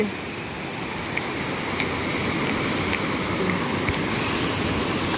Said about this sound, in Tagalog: Ayan ang tubig.